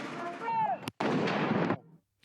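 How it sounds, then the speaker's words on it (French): Ceremonial 21-gun cannon salute fired at Les Invalides in Paris: booming artillery reports, one sharp blast splitting two longer rumbling roars, loud and echoing outdoors. "comme les 21 coups de canon tirés aux Invalides"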